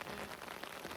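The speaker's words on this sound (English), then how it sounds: "It's hailing." Hail falls steadily during an outdoor round at Delphi Disc Golf Course, a dense, continuous pattering across the whole moment with no voices.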